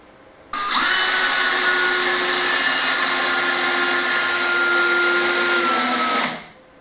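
A power drill drives screws into a wooden gate, a loud steady whine that starts abruptly, runs evenly for about six seconds close by, then winds down.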